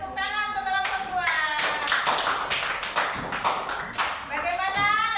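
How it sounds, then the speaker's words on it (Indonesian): A sixth-grade class claps for a student group, a lively burst of many hands that starts after about a second and rises into dense, uneven applause with some voices mixed in. "Tepuk tangan untuk kelompok 2."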